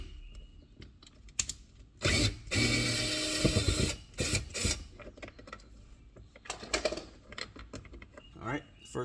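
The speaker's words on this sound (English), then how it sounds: "Now I'll use my drill to work it the rest of the way out." A drill runs briefly to back out a T20 screw from an Audi S5 B9.5 car door, a close buzzing burst of about two seconds followed by scattered clicks and handling noises.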